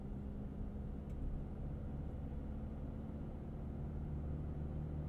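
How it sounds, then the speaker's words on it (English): Steady low engine rumble from a 2023 Chevy Colorado's 4-cylinder as the truck accelerates, a constant in-cabin drone with road noise and no talking. "The 4-cylinder does make a little noise as you're getting up to speed"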